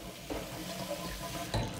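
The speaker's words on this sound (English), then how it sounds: "this water was flowing across the bottle" Water runs over a hot glass bottle, a brief close trickle and splash with two louder gushes, no talking.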